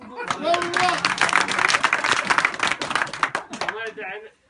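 An audience claps in quick, rhythmic bursts that build and then trail off, close and lively, mixed with voices chanting and talking over the applause.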